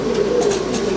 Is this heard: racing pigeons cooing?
yes